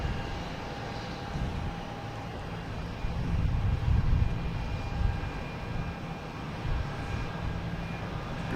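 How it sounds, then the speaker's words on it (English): A JetBlue Airbus A220 rolls for takeoff at Boston Logan Airport, its jet engine roar rising to a broad, distant rumble midway and then holding steady and airy, with no talk. "Next taking off is a JetBlue A220 heading to Pittsburgh."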